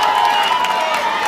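Audience applause and cheering at a public event in Rafael Fernandes welcoming a Brazilian artist, a crowd's steady clapping with a sustained tone and voices running through it.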